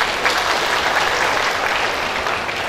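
An audience at a polytechnic health school graduation ceremony breaks into loud, dense applause, a continuous roar of many hands clapping in a large hall for a few seconds.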